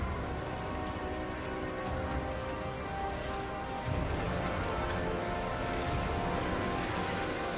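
Heavy storm rain pours steadily at sea, a dense unbroken hiss with low rumbling and wash beneath it. It stays loud and continuous throughout, with no voices.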